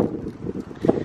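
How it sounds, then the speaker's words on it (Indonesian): Strong wind buffets the microphone outdoors at Hakone, Japan, a steady low rumble with gusts swelling louder near the end, no voices heard. "Dingin banget di sini, angin banyak banget."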